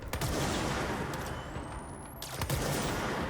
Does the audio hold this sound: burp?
no